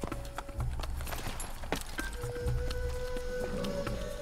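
Horse hooves clop in the video game Assassin's Creed in a quiet, uneven rhythm of soft beats. Faint ambient game tones and brief clicks sit underneath, with no talking.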